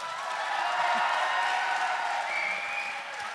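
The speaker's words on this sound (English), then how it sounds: "give him a round of applause" A live audience at a talk show with Olympic champions gives a sustained, even round of applause, a dense wash of clapping that swells and then eases slightly.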